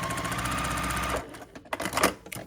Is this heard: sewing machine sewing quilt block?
yes